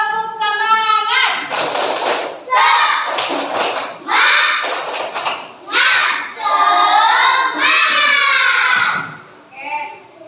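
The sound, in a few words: children doing a rhythmic spirit-clapping routine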